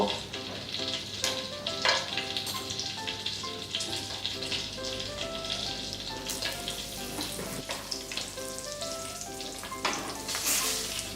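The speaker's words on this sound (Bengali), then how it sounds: "তেলটা গরম করে নিয়েছি গ্রেভি বানানোর জন্য। এবার এতে গোটা গরম মশলাগুলো ফোড়ন দিয়ে দেব।" Whole garam masala spices sizzle in hot oil heated for a soya granule korma gravy, making a continuous close crackle and hiss with occasional sharper pops and no voices.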